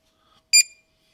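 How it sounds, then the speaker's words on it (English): A single short, high electronic beep sounds from a handheld diagnostic gadget plugged into a Mazda MX5 Mk1/2 as it finds a fault code, clear and alone against silence. "One beep means it's found a code."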